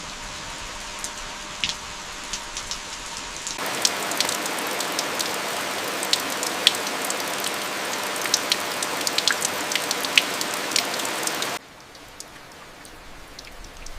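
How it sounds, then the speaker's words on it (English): Rain falls steadily on surfaces in Grindelwald village in Switzerland, a dense hiss with scattered drip ticks that swells louder in the middle stretch before easing back, and no voices. "The rain finds its own rhythm here."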